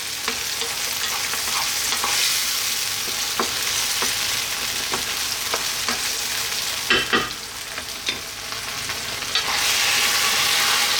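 Tomatoes and eggplant frying in a pan, a steady bright sizzle with occasional stirring clicks and scrapes throughout, close and fairly loud, no talking.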